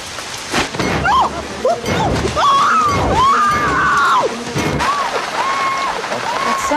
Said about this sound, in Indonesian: tidak lama hujan pun turun